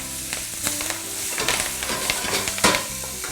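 Chopped kale sizzles in a pan with bacon, a constant hiss of frying broken by scraping, clattering stirs and one sharper knock near the end.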